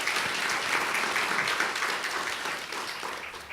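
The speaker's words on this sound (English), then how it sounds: "So another quick round of applause for building 3 successful businesses." Steady audience applause at a business growth talk, a dense, continuous patter of many hands clapping that tapers slightly toward the end.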